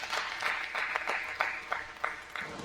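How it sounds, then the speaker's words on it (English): Audience applause at a youth basketball Summer Slam event honouring back-to-back state champions, a brief, moderately loud burst of many hands clapping with a few sharper claps standing out. "Let's give a round of applause for the back-to-back state champs."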